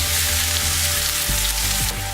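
Onion sizzling in hot oil in a pan with seeds and cloves for cutlets, a steady close crackle with a brief stir partway through.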